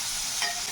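Dry bitter gourd with green chillies, turmeric and toor masala frying on a hot tawa, giving a steady, close hiss of sizzling oil with faint stirring, no voices.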